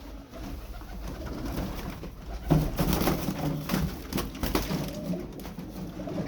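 Crested pigeons coo softly and continuously, several birds overlapping in a close, enclosed coop with a steady background rustle.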